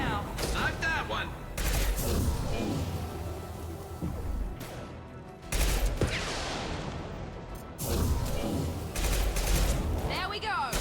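Weapons fire in the video game Mass Effect 2 crackles through loud rapid bursts and volleys with sharp impacts and brief gaps, while a voice speaks over the combat.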